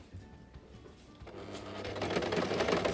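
A sewing machine stitches a seam on a pleated fabric face mask, starting quietly and building into a steady, close mechanical whirring with rapid needle clatter.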